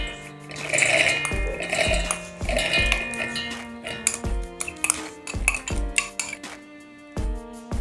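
Dry lentils tip into a steel mixer grinder jar, likely while making crispy methi vadi, giving a dense rattling spill and then a run of sharp, ringing metallic clinks and taps, close and fairly loud with no talk.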